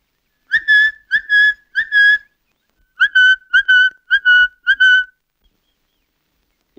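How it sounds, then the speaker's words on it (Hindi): A bird call in a 1960 Hindi film: clear, piercing whistled notes come in short bursts, three then a pause, then five more in quick succession, loud and close against silence. "यहाँ की चिड़िया बहुत निराली है,"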